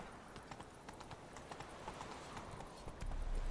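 The horse Roach gallops hard in The Witcher 3, a fast, dense drumming of hooves close by over ambient game sound, swelling louder in the final half second.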